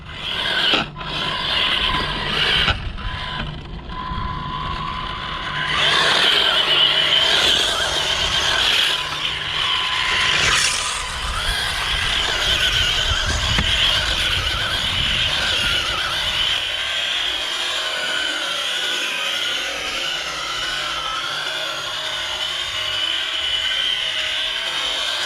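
A vintage Tamiya Holiday Buggy RC car spins donuts on rough ground outdoors, its small electric motor whining with a continuous scraping, rasping rumble of tires and gravel, rising and falling over about twenty-five seconds.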